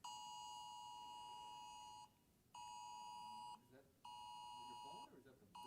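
A phone's emergency alert for a tornado watch in Elk Grove Village sounds during a school board meeting: loud, steady electronic tones in three long bursts separated by short gaps, with faint room voices underneath.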